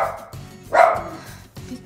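A dog barks at the TV in a short burst: one sharp, loud bark stands out over quieter background sound, close by and indoors.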